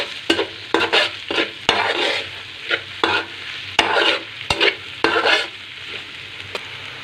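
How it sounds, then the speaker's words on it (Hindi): Garlic ginger paste being stirred into frying onions in a pan for bhindi masala, with repeated scraping spoon strokes over a steady low sizzle, close and without talk. "अब हम इसको 5 मिनट अच्छी तरह मिक्स कर लेंगे।"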